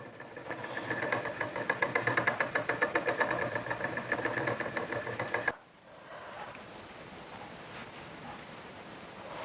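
Spinning wheel drafting flax into linen yarn worsted style, a steady rhythmic whirring with regular treadle beats for several seconds, then the motion stops abruptly and only a low room hum remains.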